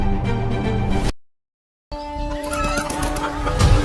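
A chicken clucks and squawks close by among other farmyard noise. The sound breaks off briefly into silence, then resumes with scattered clucks over a rough background.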